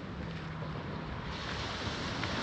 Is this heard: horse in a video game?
no